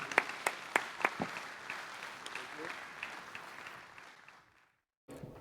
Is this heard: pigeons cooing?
no